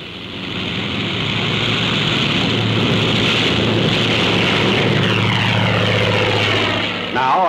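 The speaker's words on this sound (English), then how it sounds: "A carrier plane takes off, relying solely on propeller thrust." A World War II carrier plane takes off from the deck on propeller thrust alone, its engine and airscrew roaring loud and steady from start to finish, close to the listener.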